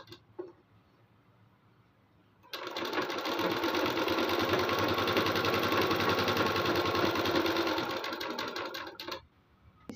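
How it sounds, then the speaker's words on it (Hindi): An electric sewing machine stitches suit lining to the main fabric in one continuous run of about seven seconds, a fast, even, whirring chatter that starts and stops abruptly against a quiet room. "अब इसको पकड़ते हुए हाफ हाफ इंच इसको सिलाई लगाएंगे।"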